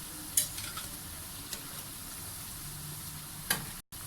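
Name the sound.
pakoras frying in hot oil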